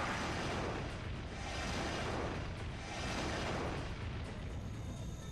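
A Genocidal Cannon attack in the Legend of Legaia video game, heard as a continuous, dense roaring blast that sustains at steady loudness for several seconds with no talk over it.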